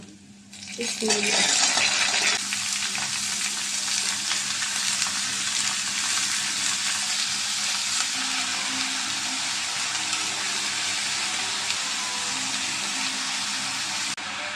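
Sweet pumpkin frying with onions in a pan gives a loud, steady sizzle that rises sharply as the pieces go in, then holds as a dense hiss.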